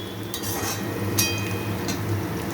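Onions frying in a pan for chicken curry, a steady soft sizzle broken by a few light metallic clinks of a spatula against the pan, close and continuous with no voices.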